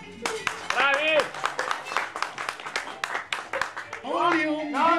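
Audience clapping at a fan gathering breaks out around a speaking voice, brief bursts of applause mixed with talk and calls.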